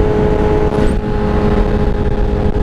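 Loud, continuous engine roar from a 2017 Honda CBR1000RR sport bike accelerating hard through the gears during a wheelie, a steady high-revving drone with a brief dip partway through, buffeted by wind.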